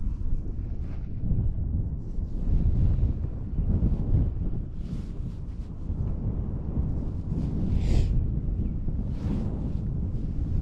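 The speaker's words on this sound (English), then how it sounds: "That wind's blowing it around every which way." Steady outdoor wind buffeting the microphone on a kayak, a continuous low rumbling roar with gusty swells throughout, loud and close, no talking.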